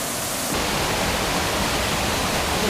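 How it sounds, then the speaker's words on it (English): Flowing river and waterfalls at Fukugawa Falls in northern Okinawa, a dense, constant rushing wash of water that swells slightly louder after the first half second and stays steady, no voices. "point where lots of these rivers and waterfalls converge"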